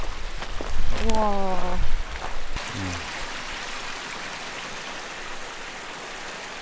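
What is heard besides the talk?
creek flowing near mountain campsite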